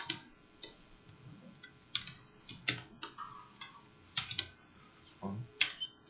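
Computer keyboard keys pressed in short irregular bursts, crisp close clicks of modifier and arrow-key combinations, with quiet gaps between presses.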